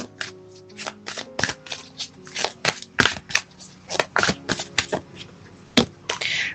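Tarot cards are handled and drawn from a deck at close range: a string of crisp, papery riffles and snaps, irregular and fairly quiet, with no one speaking.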